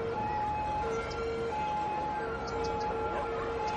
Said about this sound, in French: Y aurait-il un crime en cours pour que je n'entende toutes ces sirènes?